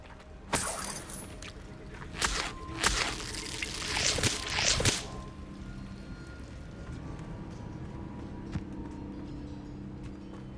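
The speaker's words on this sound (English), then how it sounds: "The waterfall." Rushing water from a waterfall in the video game Hogwarts Legacy, with splashy bursts for several seconds near the start before settling into a steady, softer wash of water.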